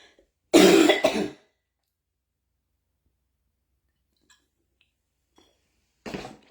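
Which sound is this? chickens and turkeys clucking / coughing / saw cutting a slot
coughing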